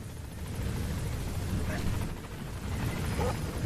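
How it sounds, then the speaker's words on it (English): A support helicopter arriving in Metal Gear Solid V, a low rumbling rotor drone that holds steady and close throughout, with game voices faintly over it. "Support helicopter has arrived."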